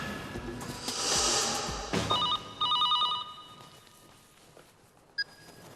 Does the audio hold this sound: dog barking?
no